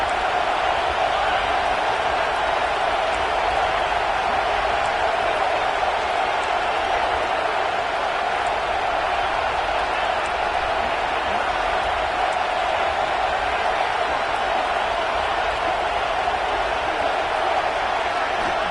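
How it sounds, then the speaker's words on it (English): A stadium crowd at a Florida State vs Clemson college football game keeps up a steady, dense roar of cheering and noise with no breaks. "This crowd bringing the energy and noise early."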